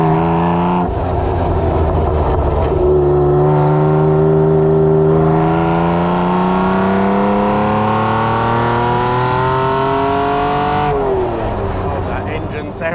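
A Ferrari Testarossa engine revs hard while driving, its loud, rising and falling tone sweeping up through the gears, near and continuous throughout.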